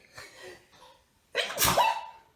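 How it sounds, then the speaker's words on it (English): A single sharp sneeze bursts out close up, preceded by a few soft breaths and vocal sounds. "I sneezed, bless me."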